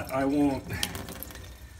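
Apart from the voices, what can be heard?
hot water running from an InSinkErator instant hot water dispenser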